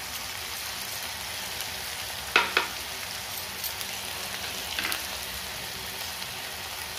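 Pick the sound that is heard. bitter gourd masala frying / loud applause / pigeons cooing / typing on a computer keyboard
bitter gourd masala frying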